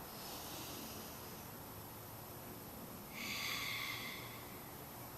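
Slow yoga breathing, a soft, faint inhale followed by a louder, airy exhale close to the listener in a quiet room.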